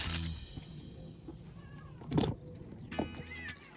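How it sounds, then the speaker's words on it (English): A cat meows a few times, short drawn-out calls with quiet pauses, fairly near, over faint background noise. "We got a cat joining us."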